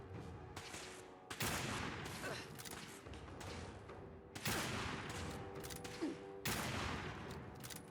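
Gunfire in Fallout 4 while shooting at enemies, several loud cracking bursts of shots in quick succession, separated by quieter stretches.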